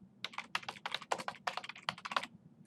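A search phrase typed on a computer keyboard in quick bursts of crisp key clicks with short pauses, close and clear over a faint low hum.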